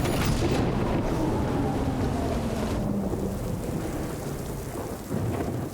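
Steady rain pours down with rolling thunder rumbling throughout in the video game Death Stranding, a dense, loud storm wash with a low boom swelling near the middle and no talk.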